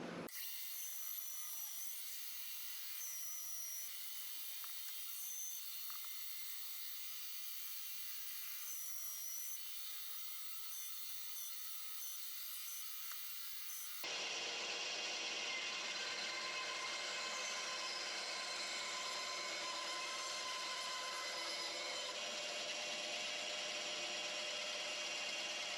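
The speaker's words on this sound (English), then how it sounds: "cut this up on the bandsaw in little blanks" A bandsaw hums steadily while it cuts through cedar wood into small blanks, with a sharp change partway through as the blade bites in. The whole cut is loud and close, with no voices.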